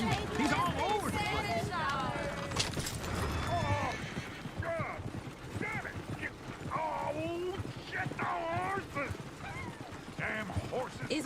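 In Red Dead Redemption 2, a horse gallops with rapid clip-clop hoofbeats and whinnies, heard alongside other game sounds while characters talk over it.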